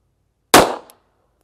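A CZ97 pistol fires one .45 ACP round across a chronograph from about seven yards, giving a single sharp, loud report with a short decaying tail and a faint metallic tick just after.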